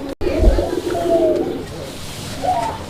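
Pigeons of the Gola breed coo repeatedly at close range, low throaty rolling calls with a steady murmur of background noise.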